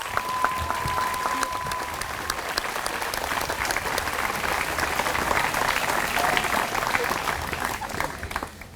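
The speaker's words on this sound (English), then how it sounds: "let's give one round of applause for all these eighth graders" A crowd at a middle school closing ceremony applauds the eighth graders, a steady wash of many hands clapping for the full stretch with a few brief voices poking through.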